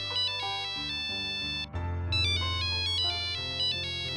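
A mobile phone ringtone plays a bright, looping electronic melody of repeated tonal phrases for an incoming call from Rama, loud and close, with a brief break partway through.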